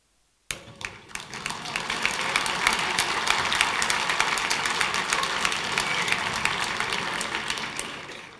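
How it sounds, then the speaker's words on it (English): Audience at a technology talk in Argentina bursts into clapping after a sudden start, a quick, dense patter of hand claps that swells and holds steady, with laughter likely mixed in. "Yes, you laugh and clap."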